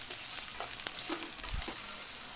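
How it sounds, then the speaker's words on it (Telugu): Dried red chilies and a finely chopped green chili fry in hot oil for palak dal, giving a steady close sizzle with a few soft stirring knocks and no voices. "తర్వాత 2 ఎండుమిరపకాయలు వేసి వేయించండి."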